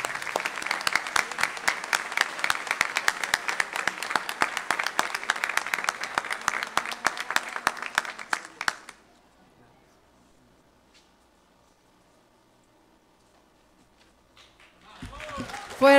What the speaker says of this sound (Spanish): Fuerte, fuerte aplauso.